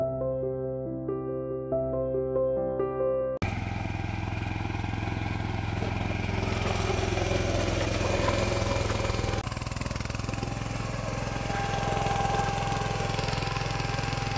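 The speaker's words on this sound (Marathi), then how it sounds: "तिकडं ना ट्रॅक्टर चालू आहे बरं का" A tractor engine runs in a sugarcane field with a steady low, throbbing drone, fairly close and continuous, following a short stretch of music at the start.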